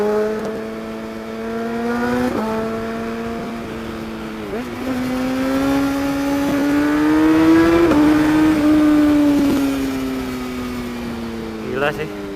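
A 2019 Kawasaki ZX636 sport motorcycle on a test ride, its engine note climbing and falling through several accelerations and shifts, loud and close, with a rising whine building near the end.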